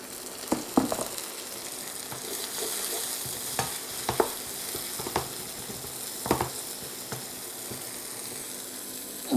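Onion softening in a pan with a little warm water, a low steady sizzle broken by several clicking knocks of a spoon stirring against the pan, close and without voices.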